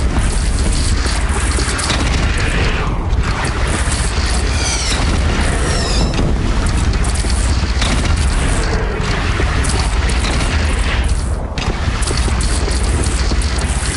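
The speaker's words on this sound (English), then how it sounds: "Take up a cannon on the platform." Heavy cannon fire from a platform in the video game Horizon Zero Dawn, a dense, loud barrage of booms and crashes filling the whole stretch with continuous rumbling impacts and no talk.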